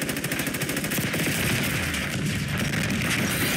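Rapid automatic gunfire from Call of Duty: Black Ops 6 multiplayer, sustained bursts of evenly spaced shots with heavy low-end thump, loud and continuous with no talking over it.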